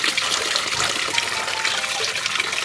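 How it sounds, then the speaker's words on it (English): Old engine coolant pours out of a Duramax diesel engine in a steady, loud gushing stream, a continuous splashing trickle of liquid close by with no talking. "all the rest of this coolant will flow out just like you see now"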